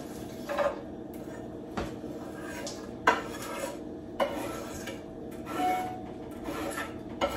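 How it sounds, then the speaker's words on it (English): Vegetables sautéing in avocado oil in a pan heated to medium, heard as close, repeated scraping and clattering of a utensil against the pan over a faint background hiss. "I'm gonna put my veggies in first and saute them."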